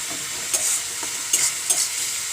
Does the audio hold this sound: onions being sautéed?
yes